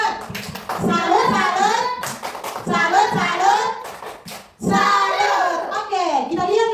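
Schoolchildren perform a clapping cheer, rhythmic hand claps under a loud unison chant, repeated in three close bursts with brief pauses between.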